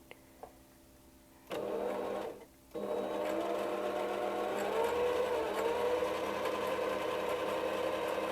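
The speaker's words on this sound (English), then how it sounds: "when you wind a bobbin, this is what it's going to do when you get a new machine" A computerized sewing machine winds a bobbin with a close, steady high whir that starts briefly, pauses, then runs continuously at an even speed.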